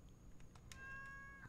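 A cat meows once in the farming game Stardew Valley, a short, faint in-game call with tonal harmonics over a low background hum, heard alone without talk.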